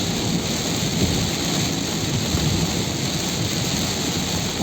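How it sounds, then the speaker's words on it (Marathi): Heavy monsoon rain roars steadily and loudly during a drive through the Lonavala ghat on the Mumbai-Pune route, a dense unbroken wash of noise with no voices. "पाऊस खूप चालू आहे भरपूर पाऊस चालू आहे"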